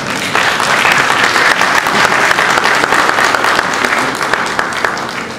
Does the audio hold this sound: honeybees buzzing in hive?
no